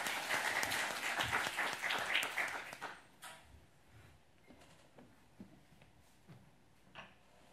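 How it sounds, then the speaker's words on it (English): Applause from the audience at an open science awards event, a burst of clapping for about three seconds that quickly dies away into scattered claps and room noise. "Warm applause, please."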